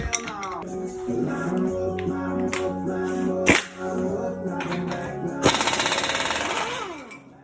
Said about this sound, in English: Next, I'm gonna loosen up the lock on the axle nut and take it off.